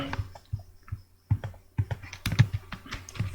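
A note being typed on a computer keyboard during a Python coding tutorial, with short irregular bursts of close key clicks, brief pauses between them, and a quiet hum in the background.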